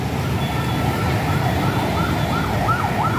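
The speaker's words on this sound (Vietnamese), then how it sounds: "Giờ đi đường thấy xe cấp cứu không?" An ambulance siren wails with a rising and falling tone, growing more distinct over a loud, steady rumble of road traffic as it passes on the road.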